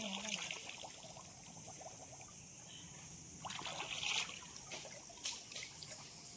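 A forest stream trickles and gurgles softly with clean water running over the bed, a faint close-by burble punctuated by a few brighter splashes.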